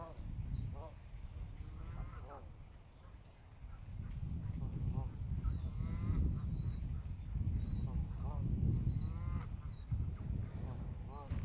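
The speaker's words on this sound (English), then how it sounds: "I would be able to hear the geese and some other birds and the wind in the trees" Geese honking repeatedly outdoors, scattered calls at moderate distance over a low rumble of wind, with other birds and occasional quacking mixed in.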